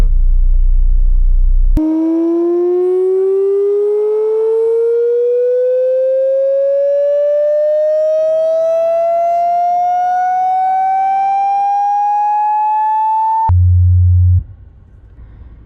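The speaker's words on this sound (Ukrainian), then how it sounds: "Так само від 30 Гц до 90 поїхали замірно" A UAudio Icon active subwoofer plays a test tone sweeping steadily upward from 30 to 90 Hz, a loud, pure rising hum that holds for about twelve seconds and then cuts off abruptly.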